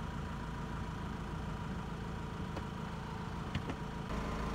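A Honda CR-V 2.2 i-DTEC diesel idles steadily, a low, even engine hum held at constant level throughout with a few faint clicks near the end.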